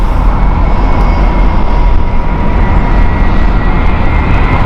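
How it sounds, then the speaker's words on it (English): An airliner roars loudly and steadily at Heathrow Airport, a broad, continuous engine rumble that stays close and unbroken throughout. "here is the classic Iberia Aer Lingus"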